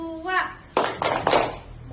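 Children clap together in a quick rhythmic pattern, three sharp bursts of claps after a short spoken lead-in, near and lively in a classroom icebreaker.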